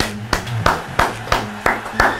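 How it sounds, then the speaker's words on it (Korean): Slow, deliberate hand claps ring out one by one, about six sharp claps at an even pace, close and loud over a low background hum, with no talking. "박수 한번 칠게요"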